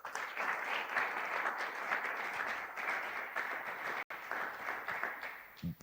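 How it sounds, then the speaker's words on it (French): A church congregation applauds during a Sunday praise and thanksgiving service. The clapping is dense and sustained, with one brief cut partway through, then it continues until near the end. "Acclame encore pour la gloire de Jésus."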